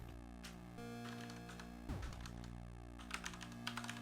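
Keys clatter on a computer keyboard as a short note is typed, soft clustered taps in bursts over a steady low hum, with no voices.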